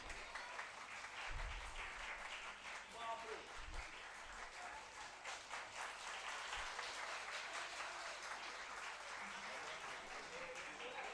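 Audience at an academic conference applauds continuously, a steady dense wash of clapping with a few low thumps, filling the room for the whole stretch without a break.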